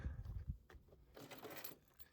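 A small bunch of keys jangles in a hand close by, with a couple of soft knocks first and then a short burst of metallic clinking.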